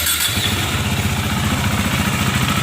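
KTM Duke 390 naked motorcycle engine starting and then running steadily, a rapid, even pulsing thrum close to the bike, loud and alone after a brief starter burst.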